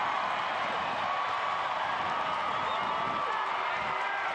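Stadium crowd at a Tampa Bay Rowdies soccer match against Bethlehem Steel FC, a steady, dense roar of many voices with scattered cheers and whoops, loud and continuous throughout.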